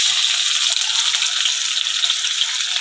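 Onions going into hot oil in a pan with bay leaves, a loud steady hiss and crackle of frying that holds without a break.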